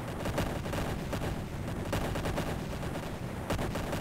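Starships in the space strategy game Imperium Galactica fire their weapons in a dense, continuous barrage of rapid crackling shots with a few sharper bursts standing out, and no voices.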